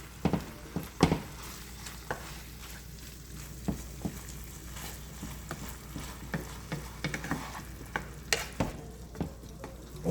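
Ground beef picadillo with tomato sauce fries and sizzles in a pan under a soft, steady hiss, with irregular scraping and clacking stirring strokes every second or so, close and fairly quiet.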